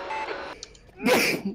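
A single sneeze bursts out at trackside during a go-kart race qualifying session, loud and close, following a stretch of quieter background noise.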